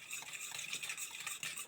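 Pancake batter of eggs, sugar and warm 3.2% milk being stirred in a bowl, soft repeated swishing and light scraping strokes, close and fairly quiet.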